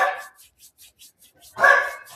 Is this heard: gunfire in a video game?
no